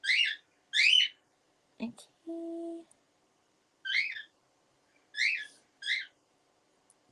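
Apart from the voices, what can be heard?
pet bird chirping, hungry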